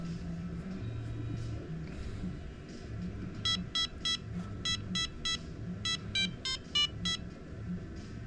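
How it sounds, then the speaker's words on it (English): A simple electronic buzzer plays a Christmas jingle as a run of short, harsh, evenly pitched beeps in a tune-like rhythm, heard over a steady low background hum. "this is a simple buzzer, so it doesn't quite have the smooth sound that a normal speaker will create"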